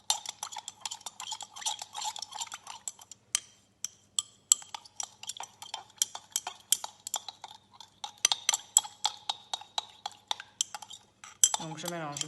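Two substances mixed together in a container during a school physics or chemistry experiment: quick metallic clinks and ticks of a utensil against the vessel, close and fairly soft, with a brief scraping swirl near the end.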